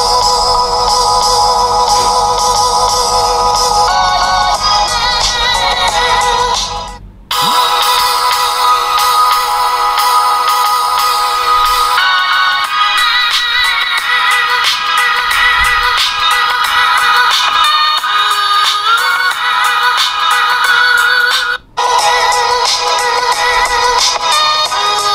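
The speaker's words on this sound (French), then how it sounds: "Allez, on vous met la même audio de Joaquin, là, vous pourrez regarder" An audio test track of music plays loudly through an Umidigi Crystal or Maze Alpha smartphone loudspeaker, continuous and bright with two brief dropouts.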